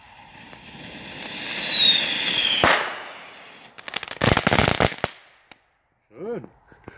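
A Knatterking firecracker set off outdoors bursts into a dense, loud crackling run of rapid pops lasting about a second, preceded by a rising whoosh and followed by short bits of nearby talk.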